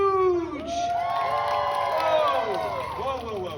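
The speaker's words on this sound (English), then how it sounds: "Stop the pity applause, all right? Stop cheering, okay?" A studio audience at a Deadpool storytelling skit cheers, whoops and shouts steadily for several seconds, a dense, loud crowd roar with a few high voices rising above it.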